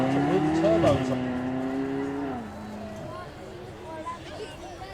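A supercar's 4.3 litre naturally aspirated V8 revs hard and shifts up slightly early, its tone dropping at the change, then fades away under a steady background murmur at a supercar weekend demo.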